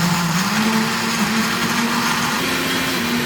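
A FIMEI multifunction food processor runs at maximum speed, its motor whining steadily with a loud, continuous drone and sustained high-pitched blade noise through the whole stretch.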